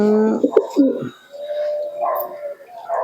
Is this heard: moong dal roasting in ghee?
no